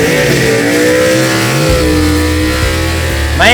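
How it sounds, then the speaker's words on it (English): A 1949 Studebaker truck on Mickey Thompson tires drag races at a gasser event, its engine roaring loud and close with rising revs and pitch sweeps, and a sharp new rev flares at the very end. "them Mickey Thompsons is talking right there on the back of that 49 Studebaker truck"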